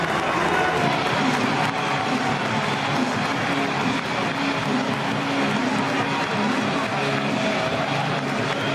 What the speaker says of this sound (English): here come the Munster players, led out by captain CJ Stander, to a great ovation from the home crowd